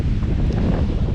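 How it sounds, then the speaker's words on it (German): Strong north wind on the Albanian coast near a cape and beach buffets the microphone with a loud, continuous low roar and rumble, with no voices. "Heute ist irgendwie ein ganz komischer Wind."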